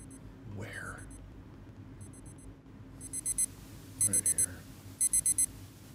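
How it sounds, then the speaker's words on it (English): An electronic alarm goes off in rapid repeating groups of four high beeps, growing louder over the last few seconds, while a person speaks briefly underneath. "Oh, alarm."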